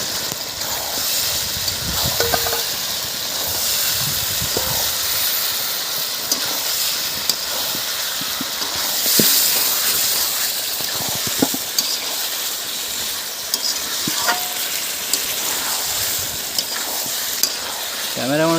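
Home-style desi chicken cooking in a pan with ground spice paste and released oil, sizzling and frying steadily with a constant bright hiss and occasional stirring scrapes, close and loud throughout with no talking.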